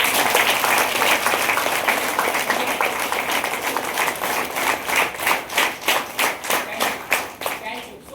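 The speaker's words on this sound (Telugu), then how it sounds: "ఒకసారి వాళ్ళ గురించి క్లాప్స్ చేయండి." An audience at a Vestige business meeting claps, a dense burst of applause that thins into rhythmic, evenly spaced claps toward the end, close and lively, with no talk over it.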